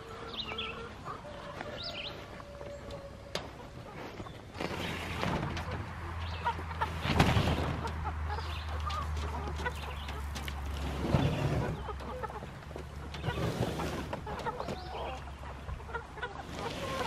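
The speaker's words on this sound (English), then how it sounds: "Rogue chickens running around." Free-roaming backyard chickens on a hot day, clucking and calling intermittently at moderate distance over quiet outdoor background, with a few louder calls and bursts scattered through the stretch.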